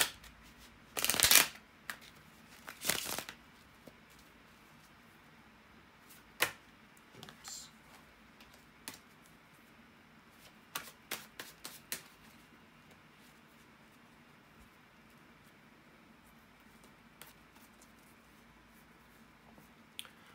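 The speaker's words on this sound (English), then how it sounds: "bear with me a second, guys, to shuffle the tarot cards" Tarot cards being shuffled up close, a couple of loud riffling bursts followed by scattered quieter taps and flicks over near silence.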